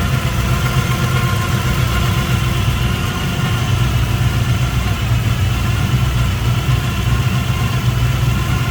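A 1950 Ford Club Coupe with Edelbrock 4-barrel intake idles steadily nearby, a smooth, even low rumble with constant engine vibration throughout.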